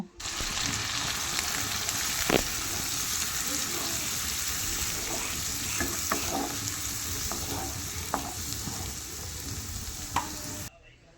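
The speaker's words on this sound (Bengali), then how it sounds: "অনেকটা পরিমাণ রসুন দিয়েছি। পেঁয়াজটাও পরিমাণ মতো বেশি দিয়েছি। দিয়ে ভালো করে নেড়ে নেব।" Plenty of garlic and onion fry in a pan while being stirred, a steady close sizzle running throughout with occasional scrapes and clinks of the utensil.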